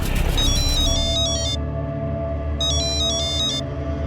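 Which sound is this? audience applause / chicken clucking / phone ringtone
phone ringtone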